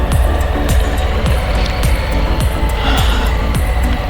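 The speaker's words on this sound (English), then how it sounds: "the bike is idling high, so which means it needs to be warmed up" A 2021 Harley-Davidson Low Rider S motorcycle idling high while cold, a steady loud engine rumble with regular low pulses throughout, close by and without speech.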